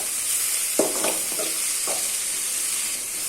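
Mashed garlic is being sautéed with onions in a pan for onion samosa filling. A soft sizzle runs under a few brief spoon scrapes and taps, and the frying stays low and close.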